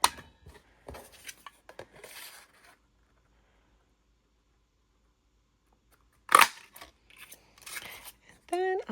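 Craft paper punch pressing out a paper shape on a card-making desk, a few sharp crisp clicks and crunches separated by near silence, quiet and close, with brief soft movement sounds.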